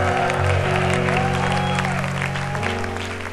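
A church congregation claps their hands together in a dense, loud, sustained burst of applause, with voices and music underneath that run throughout.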